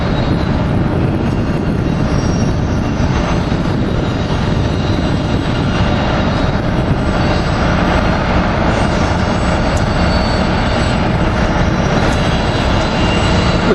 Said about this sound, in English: The train has returned to Philadelphia